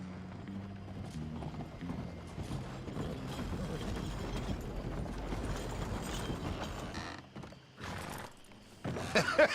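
Horse hooves clip-clopping and a horse whinny in Red Dead Redemption 2, with mechanical clanks and creaks alongside, moderately loud and close, a faint voice near the end.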